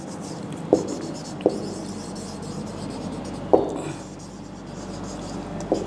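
Someone writes on a board in a Class 10 maths lesson. A few short, scratchy strokes and taps come at irregular intervals over quiet room noise.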